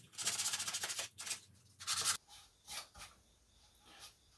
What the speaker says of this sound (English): take a piece of 150 grit sandpaper and just do some hand sanding